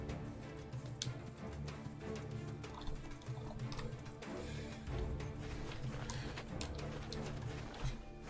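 A horse's hooves clip-clopping in the survival video game Badiya, a quiet run of rhythmic footfalls mixed with faint ambient game sounds and no speech.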